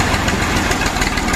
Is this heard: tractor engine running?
yes